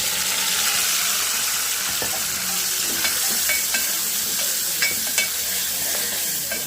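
Sliced onions, tomatoes and green chillies frying in a pan, with a loud steady sizzle up close and scattered light taps and scrapes from stirring, no voices.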